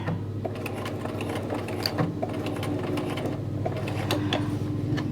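Close up, a sewing machine backstitches across a flap pocket fabric piece, its rapid mechanical clatter running steadily and evenly for the whole stretch without pause or speech.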